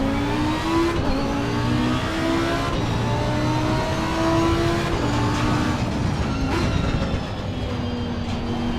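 Bentley GT race car in Assetto Corsa Competizione, its engine revving hard and loud throughout, pitch climbing and dropping through gear changes with a steady roaring drone and no voices.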